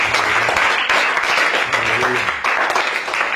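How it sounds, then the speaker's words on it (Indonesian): Church congregation claps hands during a sermon, fairly loud and full applause with a few brief surges and dips over a few seconds. "Tepuk tangan, jangan tanggung-tanggung."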